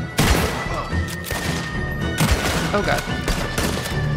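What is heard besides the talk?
gunfire from a gun in the video game Red Dead Redemption 2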